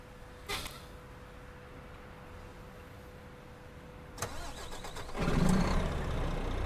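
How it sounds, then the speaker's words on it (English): An open-piped Volvo truck engine starting in Euro Truck Simulator 2 with pro mods: a couple of sharp clicks and a steady whine, then the starter cranks and the engine catches into a deep, rising rumble that settles into a loud idle. "we'll go outside to do an engine start, and I'll let you guys listen in on that."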